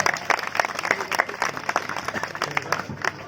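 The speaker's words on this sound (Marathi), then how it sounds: "त्यांच्यासाठी सर्वांनी जोरदार टाळ्या वाजवा" A crowd claps and applauds loudly at a village Shiv Jayanti celebration in Bhendala, Gangapur, with dense, continuous clapping filling the whole stretch and some voices mixed in.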